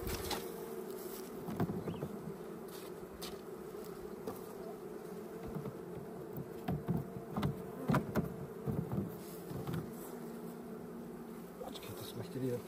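Honeybees buzz in a dense, continuous drone during an outdoor hive inspection in April, close and steady throughout with small swells in loudness and faint handling noises.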